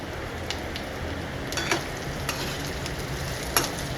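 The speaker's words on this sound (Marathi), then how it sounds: "मी इथे जरा बटाटा तुपावर चांगलं परतून घेणार आहे." Potato pieces fry in ghee for sabudana khichdi, giving a steady, close sizzling hiss with a few sharp crackles and light stirring taps throughout.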